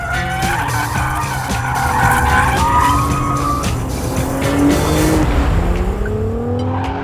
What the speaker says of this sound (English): this thing is deafeningly loud with road noise